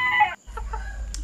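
An Italian batik chicken lets out a short crow-like call, then after a brief pause gives a few quick clucks, heard close with a low background hum.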